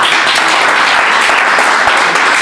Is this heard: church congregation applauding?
yes